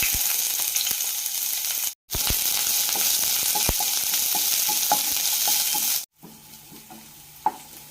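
Half a finely chopped onion fries in a tablespoon of oil in a pan for a Tabasco pepper leaf thoran, giving a loud, steady sizzle with scattered utensil taps and two brief cutoffs, quieter near the end.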